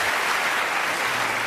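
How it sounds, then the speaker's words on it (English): Studio audience at a comedy panel show breaking into brief, dense applause, a loud even burst of many hands clapping close up with no talking. "Give him an applause."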